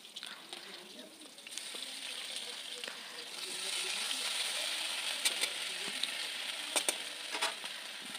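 Ginger and green chilli paste sizzling as it fries in hot spiced oil for a black cumin fish curry, a steady close crackle that grows louder partway through, with occasional sharp pops and stirring.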